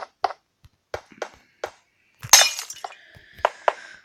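Panes of thick glass set down while building a cabin, a series of sharp clinks and knocks spaced across the moment, with one louder rattling clatter partway through and a ringing tone near the end.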